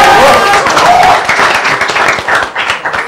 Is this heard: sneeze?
no